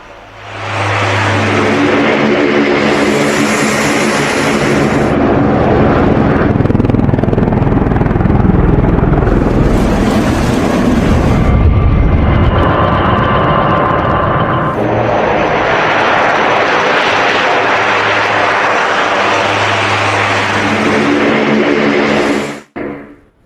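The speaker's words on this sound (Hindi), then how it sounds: "ये देख रहे हैं अमेरिकी C-130 विमान, यह विमान भी उतार दिया गया था" A US C-130 military transport aircraft drones loudly and steadily with a deep propeller-engine roar that swells and shifts over about twenty seconds, close and continuous, with no talk, ending abruptly.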